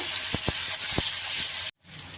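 Tomatoes added to frying onions in mustard oil for a Bengali prawn masala hiss steadily in the pan, with a few dull knocks of stirring, then a sudden brief cut before a quieter sizzle returns.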